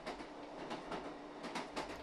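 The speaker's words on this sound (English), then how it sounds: "About 30 minutes after we left 喜德，the train arrived at the Mianning station." A slow passenger train runs through Liangshan, China, with steady rolling rail noise and faint rhythmic clicks from the wheels, heard up close with no one talking.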